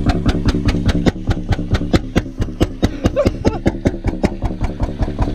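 Honda 400EX ATV engine running with an even, rapid putt-putt thump, loud and close, each firing pulse sharply distinct in a steady rhythm.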